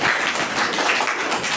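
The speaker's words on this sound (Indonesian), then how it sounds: "Tepuk tangan buat kelompok 3." Classmates in a school classroom clap for a student group after its presentation, a short, dense burst of applause that stays steady and fairly loud.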